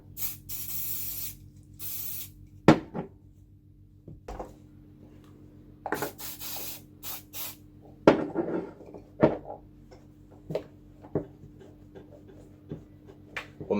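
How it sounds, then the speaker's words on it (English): Degreaser sprays in short hissing bursts onto roller skate axles, with a long spray at the start followed by several brief squirts, close and fairly loud, amid quiet handling clatter. "First up, just a bit of degreaser."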